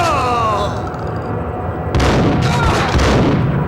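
Game gunfire from Max Payne: a dense, loud burst of shots and booming reports erupting partway through after a quieter stretch of ambient game noise.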